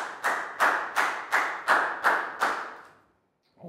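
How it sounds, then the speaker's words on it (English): A Year 4 class claps together for a pupil in a science lesson: seven loud, unison claps in an even rhythm, each ringing briefly in the room, then silence before a voice starts. "big round of applause for Nadia"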